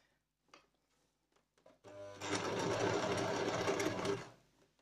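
A sewing machine stitches a seam on a fabric hair scrunchy, starting after a few soft handling clicks and then running in one loud, steady whir up close for about two seconds before winding down.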